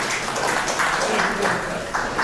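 Audience applause at a retirement ceremony: a moderate, somewhat sparse clapping texture running under a voice speaking throughout.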